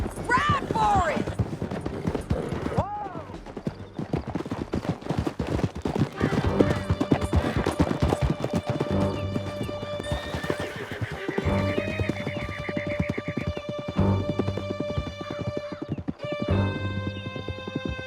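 Horses gallop in Red Dead Redemption 2, a fast, continuous drum of hoofbeats with neighs and whinnies, and scattered distant gunshots mixed in while characters talk over the ride.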